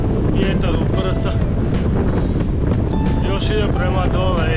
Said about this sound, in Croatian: Užasno piri ovaj vjetar u prsa.